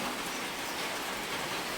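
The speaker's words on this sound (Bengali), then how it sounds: "বাইরে যেরকম বৃষ্টি পড়ে ঘরে এরকম বৃষ্টি পড়ে" Heavy rain pouring down both outside and inside a home, a steady, faint, broadband patter with no distinct drops standing out and no voices.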